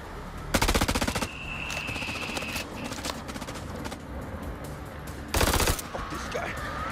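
Rapid bursts of AK rifle gunfire ring out in the video game House of Ashes, two loud, dense volleys about five seconds apart, with quieter game ambience and a faint tone in between.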